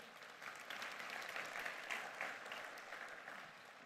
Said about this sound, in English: So, all right, clap.